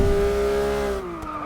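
Porsche 911 GT3 engine in the Forza Motorsport 6 racing game, a steady loud high-revving drone that holds an even pitch before easing slightly lower near the end, with no talk over it.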